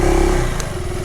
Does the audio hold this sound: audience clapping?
no